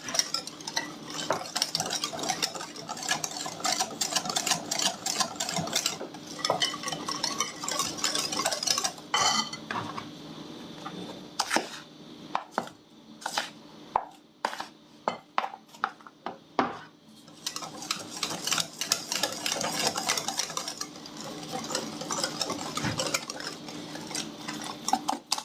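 A spoon or whisk stirs semolina, cornstarch and milk batter in a bowl, giving fast scraping and clinking strokes that pause briefly midway before resuming.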